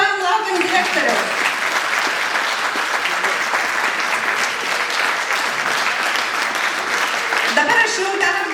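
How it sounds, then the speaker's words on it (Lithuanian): A hall audience at a stage event claps continuously while waiting for the director to come on, a loud, steady wash of applause lasting throughout with voices mixed in. "Plojam, laukiam direktoriaus."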